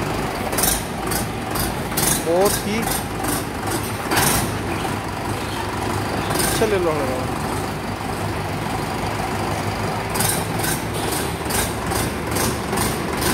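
A Mahindra 585 DI XP Plus four-cylinder tractor engine idles in a steady, subdued, low rumble from nearby, with faint speech now and then.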